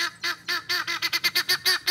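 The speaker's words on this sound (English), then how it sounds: "Chickens, ducks, and nearly a dozen guinea hens are here to keep you company." A rapid run of harsh, honking calls from ducks and nearly a dozen guinea hens on a farm, about a dozen bursts in quick succession, loud and close with no talking, squawking together.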